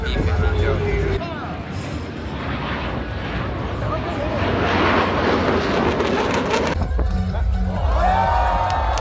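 Flying display at the 2018 Singapore Airshow, with a loud, broad aircraft engine roar that swells and sustains, over crowd murmur and outdoor bustle, ending with a rising tonal whine.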